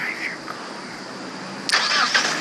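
A car engine cranks and catches partway through, a sudden louder churn rising over a faint electronic tone and a quiet steady hum.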